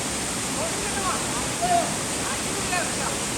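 Steady broadband rush of Keralamkundu waterfall pouring into its pool, a constant close wash of falling water with no pauses, a faint murmur of voices and splashes briefly rising through it.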